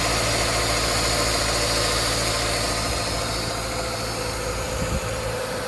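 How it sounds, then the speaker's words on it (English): A Subaru engine idles steadily with the air conditioning switched on, a constant loud mid-range hum and vibration with no change in speed, close up and without any talking. "when I turn the AC on. So far it's more quiet and no change in RPM."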